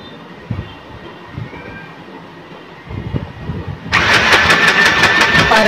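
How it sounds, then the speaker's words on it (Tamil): Foot-pedal sewing machine stitching, starting after a few seconds of quiet handling clatter and then running as a loud, rapid, steady mechanical chatter up close. "நான் வந்து ஃபுட் பெடல் யூஸ் பண்ணி இன்னைக்கு தையல்"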